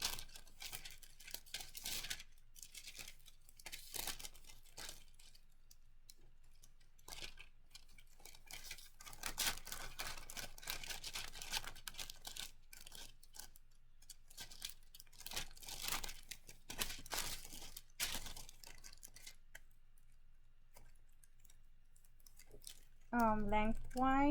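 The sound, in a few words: tearing and folding wax paper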